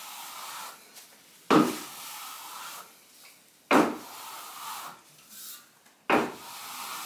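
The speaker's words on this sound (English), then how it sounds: "you're going to keep the plaster to the wall and keep getting it flatter and flatter" Steel plastering trowel pressed and drawn across fresh plaster on a wall, three sharp scraping strokes spaced a few seconds apart, each followed by a softer smoothing rub, close and fairly quiet with no talk.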